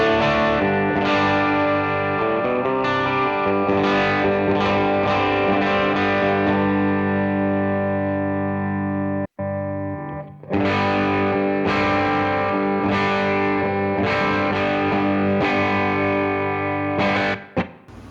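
Distorted electric guitar runs through a stock cabinet impulse response, playing sustained chords and riffs loudly and continuously, with one brief gap midway and no talking.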